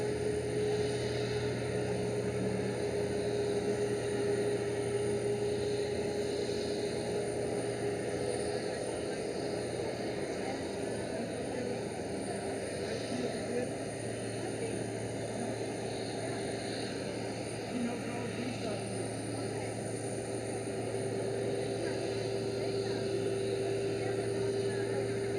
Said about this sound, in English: KLM A330 pushing back.